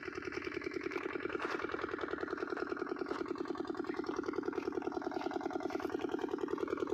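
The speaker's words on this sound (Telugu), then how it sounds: "కట్టేద్దాం ఇంజిన్ అని చెప్పి పోతున్నాను." A farm water-pump engine idles in the field, a close, steady, rapid mechanical chug with an even rhythm running throughout and no talk over it.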